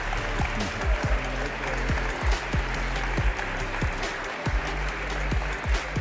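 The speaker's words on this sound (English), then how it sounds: "give a huge round of applause for Overrate Life" An audience at the DesignEuropa Awards ceremony in Copenhagen applauds a winner, with steady, dense clapping filling the room and low thumps of music or bass pulsing underneath.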